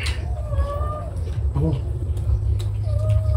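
Several cats meow nearby, a few short drawn-out cries, over a constant low rumble and background noise.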